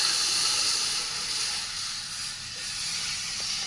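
Ice pellets dropped onto a red-hot wok give a loud, continuous steam hiss that holds steady throughout, with no talking.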